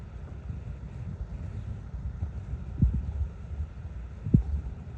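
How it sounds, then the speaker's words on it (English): A Gravely tractor engine runs with its carburetor misfiring, giving a steady low rumble broken by a couple of sharp pops. "that would be the carburetor missing off the other side"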